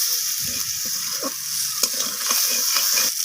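Egg curry masala with kasuri methi, slit green chillies and coriander leaves being stir-fried in a pan: a steady close sizzle with repeated scraping stirs of the spatula, no voices.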